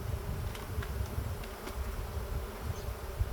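Bees from a large hive in a thin breeding box buzz in a low, continuous drone, with occasional closer individual bees passing by against a steady hum.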